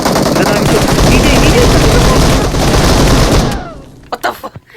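Loud sustained automatic gunfire in a video game rattles for several seconds, then cuts off into a few sharp isolated shots, with a voice talking over the shooting.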